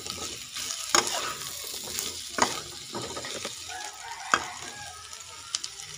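Carrots and broccoli stir-fry in a pan for chicken meatball capcay, with a steady sizzle broken by sharp scrapes and clanks of a spatula, close up and with no talk.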